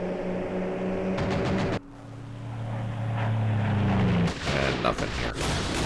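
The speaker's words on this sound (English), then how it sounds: "Here comes our airstrike." An airstrike in the Vietnam war game Campaign Series Vietnam, set at Dien Bien Phu, roars as a loud sustained aircraft rumble with droning engine tones, broken by sharp bursts of explosions and gunfire, close and dense throughout.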